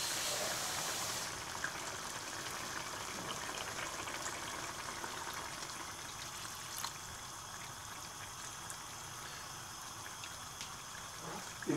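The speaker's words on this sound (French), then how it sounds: "Je vais rajouter un petit peu d'eau." Water pours into a simmering pot of chicken curry, a steady close stream and hiss that starts strongest and settles into a gentle continuous flow, with a few small knocks and a clatter at the end.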